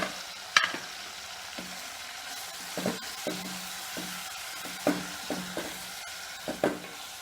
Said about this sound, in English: Now I am just raising the flame so that the pudina leaves get sauteed very nicely.